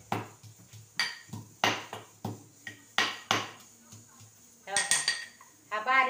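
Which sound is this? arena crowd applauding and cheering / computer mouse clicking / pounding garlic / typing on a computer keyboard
pounding garlic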